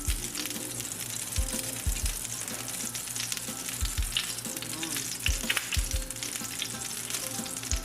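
Shrimp sizzle in olive oil in a pan, a steady crackling fry with occasional low thumps of stirring, close and continuous.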